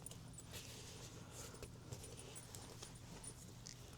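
Keys jangle and clink faintly as they drop into a small Dior Diorling handbag, a soft metallic rattle over quiet background noise.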